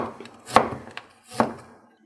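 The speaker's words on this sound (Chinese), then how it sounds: "姜切片" A knife slices ginger on a board as an aromatic for steamed croaker fish: a few distinct, close, sharp chops with quiet gaps, the strongest two about a second apart.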